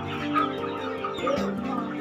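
Sonali chickens on a poultry farm clucking continuously in a dense chorus, with overlapping calls from many birds at moderate distance and no talk.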